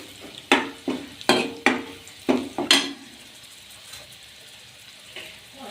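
Red chillies frying briefly in a pan while cooking Punjabi-style sarson ka saag, with several sharp stirring scrapes and bursts of sizzle in the first three seconds, then a quieter steady crackle.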